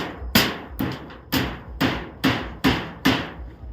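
Hammer pounding in a backyard kitchen, seven loud, sharp blows at a steady rhythm about half a second apart, each ringing briefly before the next, close by and without talk.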